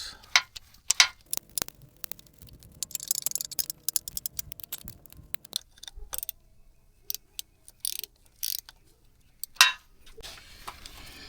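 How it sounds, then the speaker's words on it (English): Ratchet work tightening the lower bolts of an AC compressor on a 2006–2010 Nissan Altima, heard as bursts of quick metallic clicking and ticking separated by short quiet pauses. "So let's tighten the lower bolts."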